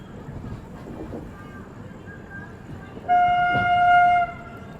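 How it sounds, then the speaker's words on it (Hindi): A Vande Bharat Express on the Nagpur–Indore route draws near past a station, first as a low rolling rumble, then with a loud, steady horn blast held for about a second before stopping. "सामने से आ रही है वंदे भारत एक्सप्रेस।"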